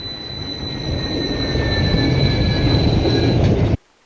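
The linear motor launch of the West Coast Racers roller coaster at Six Flags Magic Mountain: a rushing mechanical rumble swells over several seconds, with thin high-pitched whining tones riding on top, then stops suddenly.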